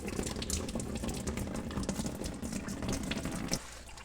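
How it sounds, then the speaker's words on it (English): Coolant draining out of the cooling system of a BMW E39 Touring during a repair, a steady close pouring splash of liquid that runs continuously and then drops off near the end, with no talking. "I'm going to drain the coolant here just because we're going to be doing some work to the cooling system"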